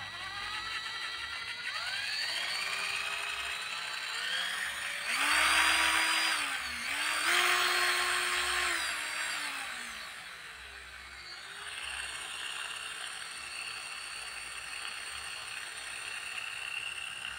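A JLD 12V cordless drill whirs steadily, its motor pitch rising and falling as the trigger is squeezed and eased, with two louder high-speed bursts in the middle.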